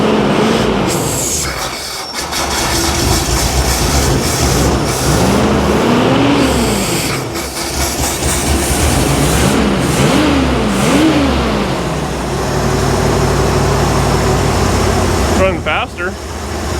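A 1975 Bricklin SV-1 with a dirty carburetor runs loudly and unevenly, its engine revving up and down in several rising and falling swells, with a person talking over it.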